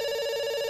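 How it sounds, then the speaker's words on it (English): A telephone rings in the video game Dr. Langeskov, a steady electronic tone held through the short stretch with no talk over it. "It's ringing."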